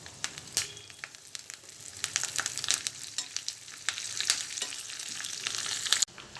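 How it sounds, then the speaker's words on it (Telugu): Mustard seeds, cumin, garlic and curry leaves sizzle and crackle in hot oil for a tempering, with steady frying and sharp pops close up and no voices. "ఆయిల్ వేడిన తర్వాత ఆవాలు, జీలకర్ర వేసుకోవాలి."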